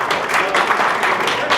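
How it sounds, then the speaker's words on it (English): A crowd at a school district meeting applauds teachers, producing a dense, steady wash of many hands clapping together. It is loud and sustained for the whole short stretch, and voices mingle with it. "Let's give a round of applause for that"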